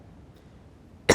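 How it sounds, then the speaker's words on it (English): A single sharp cough breaks out suddenly and loudly near the end after a stretch of near silence. "Why'd you have to cough?"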